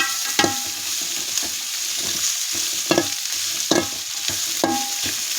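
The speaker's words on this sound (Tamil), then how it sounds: "இதை நல்லா வதக்கிடணும்." Leafy greens sauté in a pan with a steady close sizzle, while a spatula scrapes and stirs in irregular clacking strokes every second or so. No voices.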